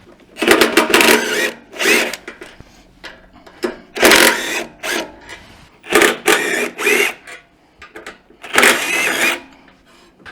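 Power tools and ratchets working on the brake caliper bolts of a vehicle, heard as repeated close bursts of whirring and rattling, each lasting about a second, with short gaps between.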